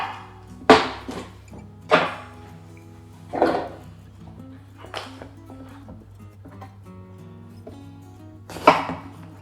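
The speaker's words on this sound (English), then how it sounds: "So first of all, I'm going to chop up my aubergine." A knife chops aubergine on a board for vegan bolognese, landing about five separate heavy thunks at uneven intervals, close and clear against a quiet kitchen hum.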